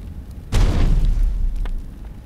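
A grenade goes off in a military video game: one loud, low boom that breaks sharply and then rumbles and fades over a couple of seconds, with no voices.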